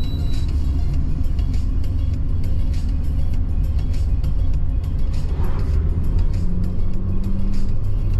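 A petrol-fuelled car engine running as heard from inside the car, a steady, loud low rumble that holds throughout with no speech.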